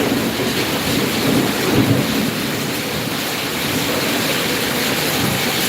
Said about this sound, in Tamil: இடி அடிக்குது பாய்